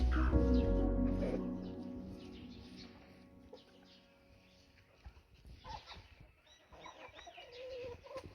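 Aseel roosters and hens cluck and call at close range, with a loud burst of crowing or squawking at the start that fades into scattered clucks and brief chatter through the rest.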